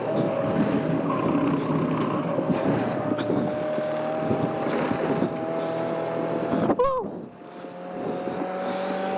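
A Mazda Miata racing on a track at full throttle, a loud sustained engine drone mixed with wind rush that cuts abruptly near the end and then drops to a quieter tone.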